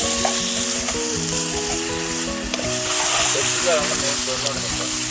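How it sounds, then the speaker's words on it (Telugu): Chicken fry in a pan seasoned with turmeric and salt, sizzling loudly and steadily close up as a spoon stirs and scrapes through the pieces in irregular strokes. "బాగా కలుపుకుందాం."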